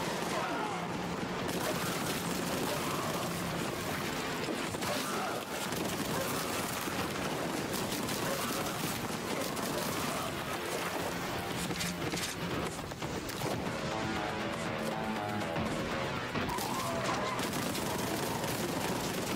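Retro pixel shooter Warhammer 40K Boltgun on Xbox fires dense, continuous volleys of loud gunshots with no letup, while a person talks over the shooting.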